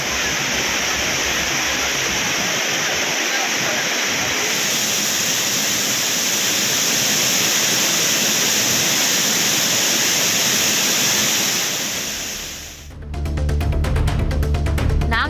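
Courtallam waterfall, Old Courtallam and Tiger Falls, flowing as a steady, loud broadband roar of falling water that continues unchanged for most of the time before cutting off abruptly near the end.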